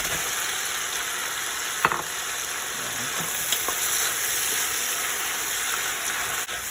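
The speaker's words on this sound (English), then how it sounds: "So now I can go ahead and add celery. You can put the celery and the onions at the same time." Celery and onions fry in a hot pan with a steady, close sizzle, broken by a few soft scrapes and taps of a stirring utensil.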